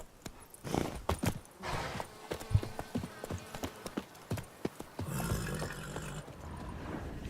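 Hooves of Roach, the horse in The Witcher 3, clop in a steady walking rhythm of close, crisp strikes, joined near the end by a rustling gust and a brief snort.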